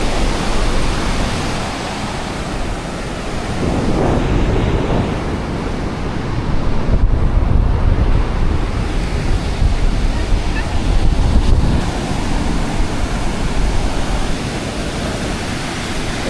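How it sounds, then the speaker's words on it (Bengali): Sea waves wash onto a shore ringed by hills near Phuket, with gusting wind buffeting the microphone; a loud, continuous roar of surf rises and falls in swells, with no clear speech. "সমুদ্রের অনেক সাউন্ড।"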